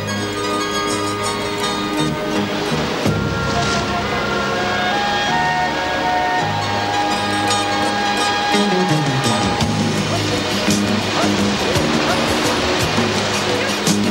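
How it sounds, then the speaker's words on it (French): A loud, continuous roar of rushing whitewater from Amazon river rapids fills the scene, with a tonal whine rising and falling over it partway through. "Et les rapides y sont parfois de véritables cascades."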